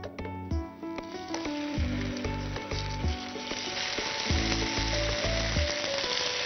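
Honey-coated chicken pieces fry in a hot pan with a steady, loud sizzle, while musical tones run underneath throughout.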